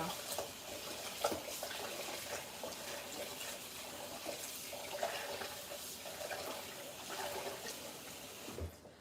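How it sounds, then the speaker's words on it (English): Rice being rinsed in water while cooking Liberian bitterball and eggplant torbogee, a steady close wash of running and sloshing water lasting throughout with no talk. "I usually wash my rice like 4 times so you can get like all the starch out"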